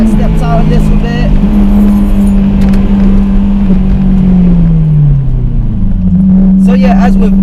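A Honda S2000 engine pulls loud and close from the cabin, holding a steady drone, then dipping in pitch before climbing again as it powers out of a corner; a voice talks over it throughout.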